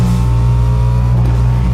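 A car in the video game IO Executioners accelerates with a continuous, loud, close engine drone and steady low tones, with no break throughout.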